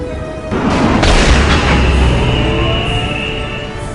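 A Titan war machine's heavy guns fire in the Warhammer 40,000 Winter Assault strategy game, producing one deep booming blast that swells and then rolls off into a long fading rumble, with no talk.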